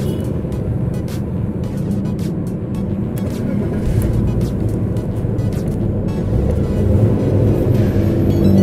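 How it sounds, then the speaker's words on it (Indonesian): A 1995 BMW E36 320i with automatic gearbox runs at a steady, smooth idle after being started, a continuous low rumble close by with no talking. "Masih halus banget mesinnya."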